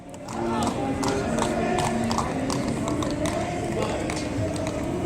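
New York City Police Department horses lining up for a parade procession, hooves clip-clopping on pavement amid busy street crowd noise and people talking nearby, one horse prancing.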